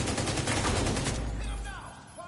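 Rapid burst of gunfire from The Division 2, a dense fusillade that lasts about a second and a half before tailing off into quieter game ambience.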